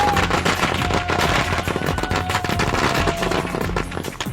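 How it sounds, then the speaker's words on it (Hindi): Celebratory firecrackers and fireworks go off in a street in Jaipur after a record-breaking cricket century. Rapid dense crackling bursts continue nonstop, loud and close, with a faint whistling tone running through them. "आसमान जीत के पटाखों से गूंज उठा"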